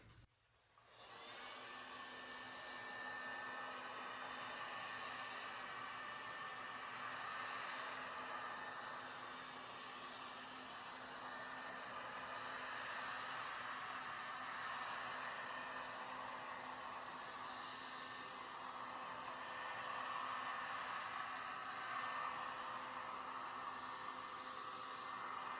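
A heat gun blows a steady whooshing stream of hot air over resin art to pop air bubbles, a constant close hum that starts abruptly and runs on without pause, with no speech.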